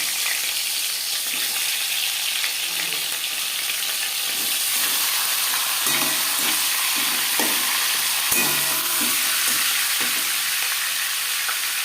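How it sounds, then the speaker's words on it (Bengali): Fish heads frying in hot refined oil in a large pan, giving a steady bright sizzle throughout, with occasional soft clinks and stirring noises close by. "4 চামচ রিফাইন্ড অয়েল গরম করে নেওয়ার পর দিয়ে দেবো মাছের মাথা।"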